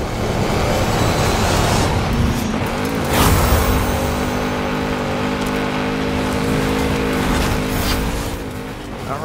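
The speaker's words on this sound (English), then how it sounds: "that Audi RS7 is a fast vehicle" An Audi RS7 in the Forza Horizon 5 racing game drives hard, its engine a steady, loud, continuous roar with shifting harmonic tones that carries without a break and never fades.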